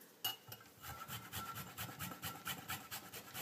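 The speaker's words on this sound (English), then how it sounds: "I like to use a microplane for this." Fresh ginger is grated on a microplane in quick rhythmic strokes. The rasp is soft and close, with a fast regular scraping that repeats for a few seconds and no voices over it.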